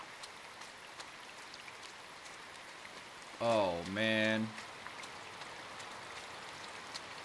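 Steady rainfall in the video game Inside, a soft, even hiss of drops running throughout at low level, briefly overlaid by a man's short spoken exclamation midway.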